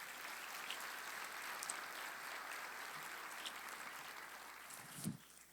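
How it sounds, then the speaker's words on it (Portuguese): Applause from a church congregation during a worship service, a steady, dense wash of clapping at moderate distance that holds evenly throughout, with no talk over it. "Dá uma salva de palmas para o Senhor."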